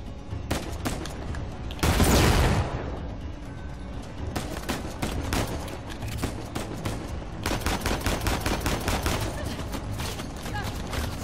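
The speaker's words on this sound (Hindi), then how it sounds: "और गोलियां इतनी टनाटन टनाटन गोलियां मार रही है बे।" Gunfire in the video game Uncharted: The Lost Legacy comes as bursts of rapid shots and a heavy boom, with a player talking over the fighting.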